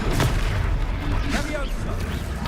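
A fire-blast spell detonates as a muffled boom with a rumbling low-end roar in a wizarding video game battle, loud and continuous beneath overlapping combat noise.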